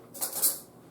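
Metal spoon lifted from among dishes and cutlery in a home kitchen while baking brownies, giving a short close rattle and clink of silverware, loudest in the middle of the moment and then fading, with no talking.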